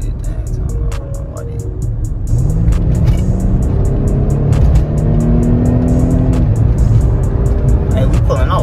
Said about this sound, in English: Let me see if I can get a little exhaust run for y'all